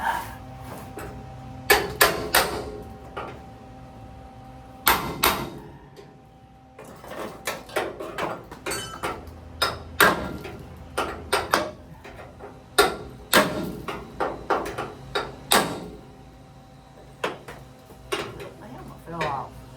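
Chisel work on a '55 vehicle, sharp metallic strikes and scraping bursts in irregular clusters, some loud and close, mixed with clanks of parts and tools, while a person talks intermittently.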